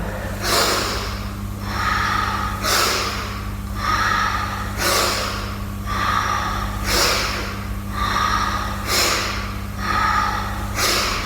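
Rapid, forceful nasal breaths in a steady rhythm during a yoga warm-up, roughly six loud puffs of air through the nose evenly spaced over the stretch, close and clear over a faint steady hum.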